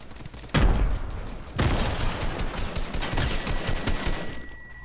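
Gunfire in the video game Fortnite: loud, dense bursts of rapid automatic shots, with one heavy burst near the start and a second sustained volley that rattles on steadily to the end.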